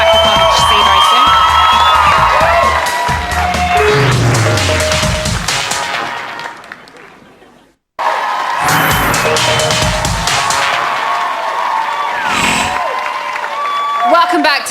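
Studio audience at a live Big Brother UK 2014 eviction show, a loud sustained crowd roar of cheering, whooping and applause that fades out, then surges back up with a presenter speaking over it.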